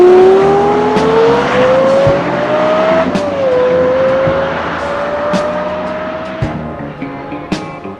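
A sports car's exhaust roars loudly up close, the note rising smoothly, dropping briefly at one gear change, then holding a high, sustained wail that gradually eases off.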